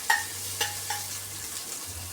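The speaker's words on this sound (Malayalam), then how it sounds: "ചോറിൻ്റെ മേളിലിടാൻ വേണ്ടിയാണ് കുറച്ച് സവാള പൊരിച്ചെടുക്കുന്നത്." Onions frying in ghee for egg biryani, a low steady sizzle broken by a few light clinks of a stirring spoon, close and fairly quiet.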